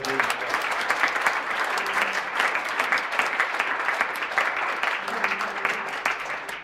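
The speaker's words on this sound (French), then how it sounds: "Laissez-nous applaudir encore une fois." A church congregation breaks into sustained applause, a dense, steady wash of many hands clapping that fills the room evenly from start to finish, with faint voices mixed underneath.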